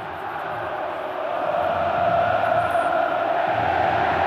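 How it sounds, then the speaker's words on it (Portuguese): Botafogo football fans fill a stadium before a match against Internacional, a broad, distant mass of voices singing together and swelling steadily louder partway through, with no single voice standing out. "Ah, é a torcida cantando."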